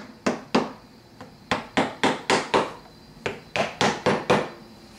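Wooden fretboard binding jig pieces tapped into place on a table, a series of about fourteen sharp, close knocks in uneven bursts with short pauses between groups.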